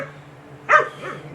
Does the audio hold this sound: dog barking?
yes